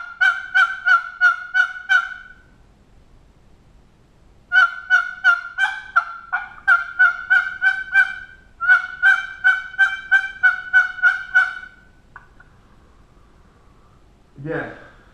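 A hand-operated turkey call produces three bursts of rapid, evenly spaced yelps, each a rhythmic string of raspy notes, loud and near, with pauses between sets and a brief low bump at the end.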